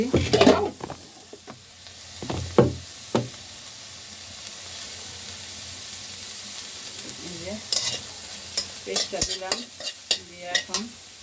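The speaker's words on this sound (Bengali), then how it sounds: "এই যে এখন পেস্টটা দিতেছি" Spice paste hits hot mustard oil and flares into a loud, hissing sizzle, then settles into a steady fry, with scraping and clinking stirring strokes, clustered toward the start and end, and no voices.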